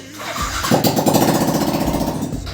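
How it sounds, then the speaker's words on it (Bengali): A Yamaha R15 V4 motorcycle, damaged in an accident, cranks and starts, settling into a loud, steady, close idle. "মেশিনটা এখন স্টার্ট হয়েছিল"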